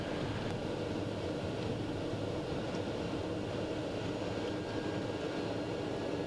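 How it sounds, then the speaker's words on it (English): A steady, loud rumbling roar of a small airplane rolling along the runway after touchdown with reverse applied, broad and continuous with faint rattles throughout. "There we go, nice smooth touchdown. We'll go back into reverse."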